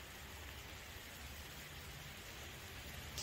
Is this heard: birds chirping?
no